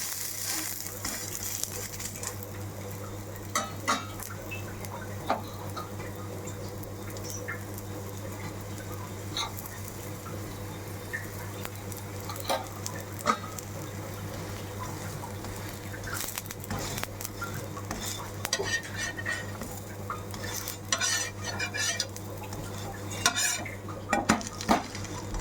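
A pudla, a savoury pancake, cooking in a pan with a low sizzle, then scraped and flipped with a utensil, giving clinks and scrapes against the pan over a steady background hum.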